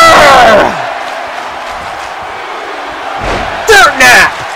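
A wrestling video game finishing move called the dirt nap lands as a loud, sharp slam mixed with crowd roar, followed by a quieter crowd murmur and two more short impact bursts near the end.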